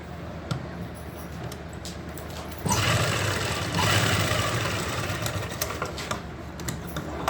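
Sewing machine joining two strips of kurti fabric for a back neck, a steady mechanical whir that swells louder partway through and keeps running close by.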